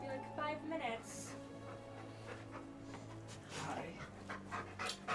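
Pet dogs at home pant steadily and give short whimpers, close by, under a person's voice speaking.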